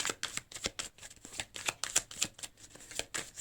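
Tarot cards being shuffled by hand, a quick run of crisp papery riffles and slaps repeating close up for several seconds, with no voices.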